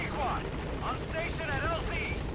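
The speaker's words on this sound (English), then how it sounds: "Because that's what the helicopter is for." A helicopter in the video game Metal Gear Solid V: The Phantom Pain whirs steadily with a rapid rotor chop, while a person talks over it the whole time.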